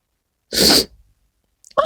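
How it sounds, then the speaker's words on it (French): A single close, sharp sneeze lasting under half a second, followed by silence and then the start of a voice. "Pardon, je vais éternuer."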